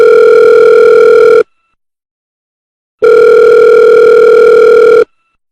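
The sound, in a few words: phone call ringing tone, from video game The Sims 4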